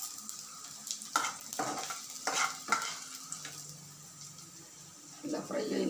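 Bitter gourd slices fry in oil while being stirred, with bursts of sizzle and utensil scrapes rising and falling in short strokes, close and fairly quiet, with a voice talking at times.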